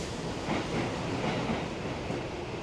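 Inside a train running along the rails in Japan there is a steady rumbling roar of moderate loudness that holds constant throughout, and no one speaks.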